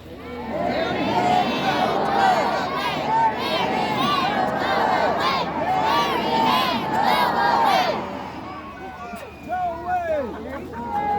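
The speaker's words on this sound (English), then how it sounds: "So let's hear everybody in the crowd chant 3 times." A crowd at a fall festival on Fuller Lake Beach chants together loudly and steadily, many voices shouting in rhythm, then the chant breaks off into scattered chatter.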